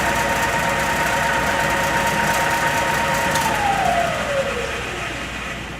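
A drill press motor runs with a steady whirring hum and a faint whine, then the pitch slides down near the end as the spindle slows and the sound fades slightly.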